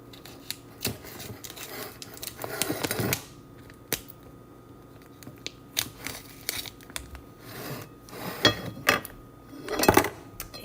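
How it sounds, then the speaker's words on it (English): Kitchen scissors snip open a package of raw beef with a run of sharp, close cuts and crinkling plastic, in irregular bursts that grow louder toward the end, with no talking. "So I'm gonna open up this with my kitchen scissors"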